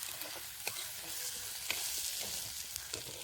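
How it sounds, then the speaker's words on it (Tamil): Onions with ginger garlic paste sautéing in a pan for a spicy chicken curry, giving a steady soft sizzle and crackle with faint stirring scrapes throughout. "இஞ்சி பூண்டு விழுது அதில் போட்டுக்கலாம். நல்லா வதக்கணும்."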